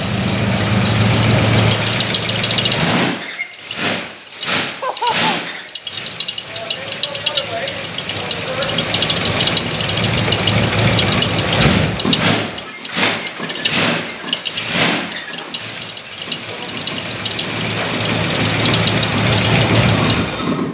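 A 1968 Dodge Charger's engine runs in gear with the brake held, a loud steady rumble with a few heavier lurches and thumps, while people talk over it.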